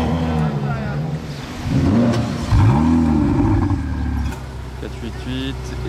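Sports car engines start and rev at a Monaco car meet, loud throaty swells rising and falling near the listener, with crowd chatter underneath.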